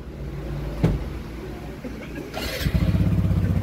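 A motorcycle on a road trip from Kedarnath to Saharanpur starts up and settles into a steady, throbbing idle close by after some mechanical clunks and low rumbling, with a voice nearby.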